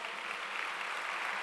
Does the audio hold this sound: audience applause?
yes